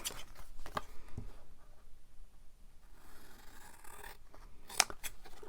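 Large Tim Holtz scissors cutting paper for a craft project, a series of close, crisp snips and rustling slices with uneven rhythm, ending in a sharp clipped snap.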